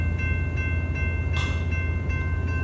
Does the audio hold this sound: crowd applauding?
no